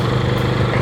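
Motorcycle engine revving with the clutch squeezed in, a loud, close, steady engine roar over a brief moment.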